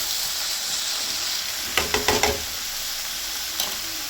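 Onion and lightly cooked green peas fry in a pan, a constant sizzling hiss broken by a quick cluster of spoon scrapes and knocks against the pan midway, with no one talking.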